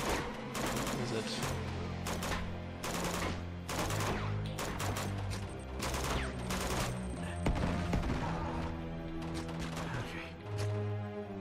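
Gunfire in the action game Uncharted 2: Among Thieves, repeated sharp shots and short bursts cracking at an irregular pace over a steady backdrop, fairly close and prominent throughout.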